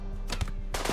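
Gunfire in the video game RimWorld crackles as a quick burst of small shots, faint and muffled over a busy game background.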